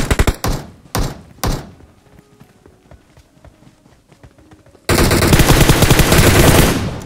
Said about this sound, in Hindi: बोट फायर दे रहा शायद या फिर बोट ही है।